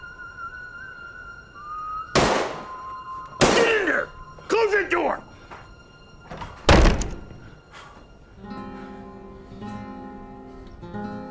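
A door slams shut in a western movie scene, with several heavy wooden thunks and bangs spread across the scene between voices, followed by a soft musical swell.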